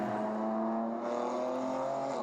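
GT race cars lapping at the Zolder 24 Hours endurance race in Belgium, including a Mercedes, a steady sustained engine drone with a strong tonal whine holding high revs, a second car's pitch entering midway, distant and continuous.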